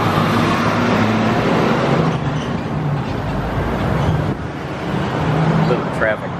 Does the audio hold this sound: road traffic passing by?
yes